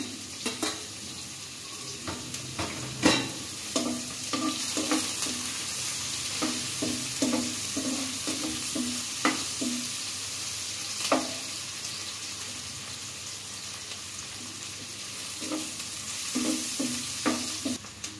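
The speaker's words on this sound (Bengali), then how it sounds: "এখানে আমরা দুটো পেঁয়াজ এবং 8-9টি কাঁচামরিচ রেখে দিয়ে দিলাম।" Two onions and eight or nine green chillies frying in hot oil for a Bangladeshi fish curry, a steady close sizzle throughout with frequent spatula taps and stirring clinks against the pan.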